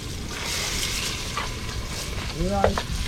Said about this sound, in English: You can hear the sizzling of it.